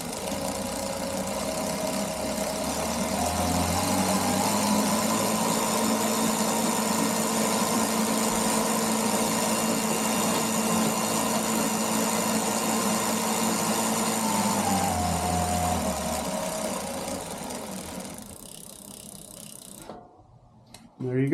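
A Bafang BBS02 mid-drive motor on a Specialized Roll 3.0 e-bike conversion, fitted with a new 42-tooth chainring, whirs steadily and loudly as it spins up, holds a sustained mechanical drone with gear whine, then winds down and stops near the end.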